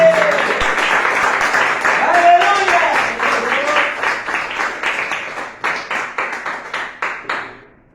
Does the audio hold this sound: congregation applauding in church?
yes